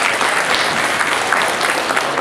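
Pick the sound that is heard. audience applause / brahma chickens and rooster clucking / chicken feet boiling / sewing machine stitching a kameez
audience applause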